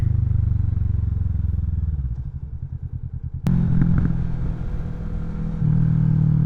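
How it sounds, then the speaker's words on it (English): A Kawasaki Vulcan 650 S motorcycle fitted with a CS Racing exhaust rumbles at low idle, then thumps in with a deeper, louder engine note that swells again near the end, heard close with wind noise and no talk. "So I do have the CS Racing exhaust for the Vulcan. It does sound very nice"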